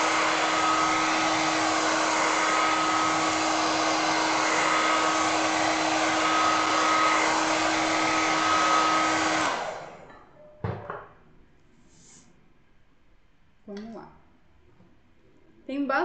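A hair dryer blows steadily and loudly for about nine seconds, drying stencil paint on a kettle, then cuts off, leaving a few faint clicks and brief quiet voice sounds.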